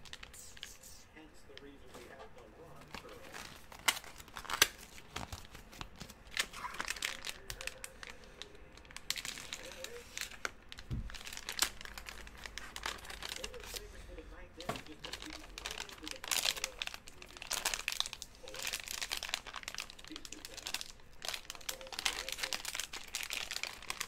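Gold Rush football card box with foil packaging torn open by hand, sustained crinkling and crackling at close range with sharp rips, continuing for much of the stretch under occasional talk.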